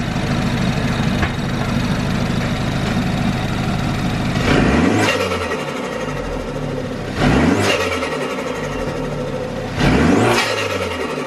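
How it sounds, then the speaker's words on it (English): A Mini F56 JCW fitted with an MMX induction kit and intake resonator delete idles loudly, then revs hard three times in evenly spaced blips, each rising and falling back to a throaty idle, close to the engine. "So we'll give it a rev now and you can hear the difference."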